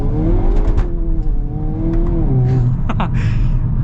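A 2023 Hyundai Kona N accelerates hard through a no-lift shift; the loud, close engine note climbs steadily with brief shift breaks, and no one talks.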